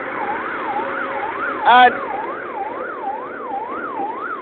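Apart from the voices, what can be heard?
siren on the road heard from a driving car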